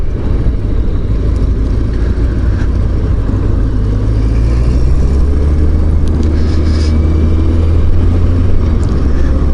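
Yamaha XJ900S Diversion motorcycle on a ride, its engine a steady loud low drone with heavy wind rush throughout and no speech, the front wheel said to wobble.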